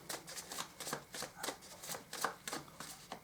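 Tarot cards are shuffled up close in rapid, rhythmic riffling flutters, about a dozen crisp bursts at steady pace, moderately quiet with no talk over them.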